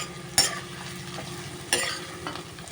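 Finely chopped onions and curry leaf stems frying in a pan for a dry fish curry, a steady close sizzle with two louder clanks of a spoon stirring, no voices.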